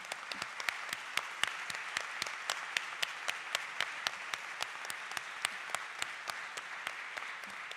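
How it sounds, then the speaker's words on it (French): An audience at a town's 150th anniversary celebration applauds in a hall, a distant, fairly faint patter of clapping with a few sharper individual claps standing out in a steady rhythm throughout. "je pense que ça mérite plus une bonne main d'applaudissements"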